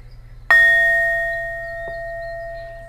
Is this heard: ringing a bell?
yes